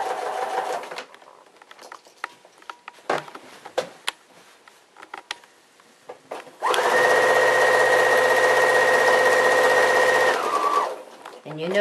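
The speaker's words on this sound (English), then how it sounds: "You may want to use a walking foot because you are sewing over a lot of thickness." A sewing machine with a walking foot runs steadily through thick quilt binding for several seconds, loud and close, after some handling noises and quiet talk.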